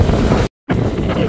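Strong seaside wind in Crimea roars and buffets the microphone in a loud, broadband rush, cutting out briefly to silence before the gusting noise returns.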